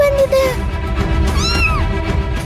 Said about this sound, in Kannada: ಓ, ಬೆಕ್ಕು ಬಂದಿದೆ.